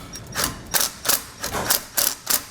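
A ratchet with a 10mm socket tightens bolts while a wiring kit is fitted on a 2020 Chevrolet Equinox, giving about seven evenly spaced, close, crisp clicking strokes heard alone.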